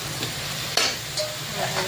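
Ingredients for a dried fish curry sauté in a pan with a steady soft sizzle, close and moderate, broken by a couple of faint stirring scrapes.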